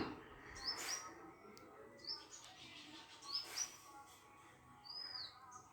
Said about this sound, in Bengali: তো পাখির কিচিরমিচির সাউন্ড